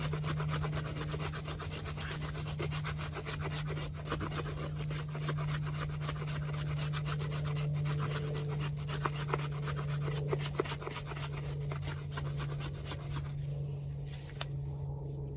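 A Reiff F3 knife blade scrapes wood into fluff, a quiet, close, repetitive rasping with quick regular strokes continuing steadily throughout.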